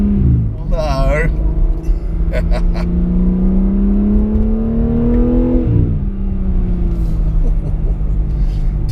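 A modified BMW M3 Touring's engine drones loudly while driving, rising steadily in pitch under acceleration, then dropping sharply at a shift before settling. A voice speaks briefly over the engine near the start.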